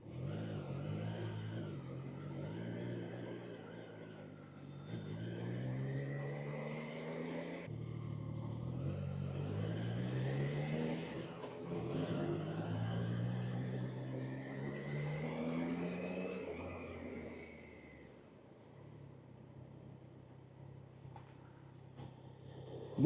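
Triumph Trident 660 motorcycle accelerating hard through repeated rising engine sweeps, with a gear change after each climb, loud and close, before settling to a steadier lower drone near the end.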